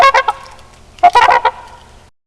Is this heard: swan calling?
yes